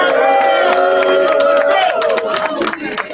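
A live hip-hop cypher audience cheers and claps for a performer walking on stage, with a dense crowd roar and scattered hand claps holding steady, then thinning into sharper individual claps and shouts near the end.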